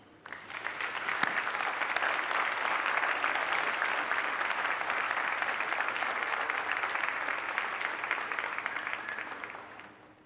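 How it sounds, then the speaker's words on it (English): Graduates at a university commencement ceremony applauding their families, a dense, sustained wave of clapping from a large crowd that swells quickly, holds steady for about ten seconds, then tapers off. "give them a well-deserved round of applause"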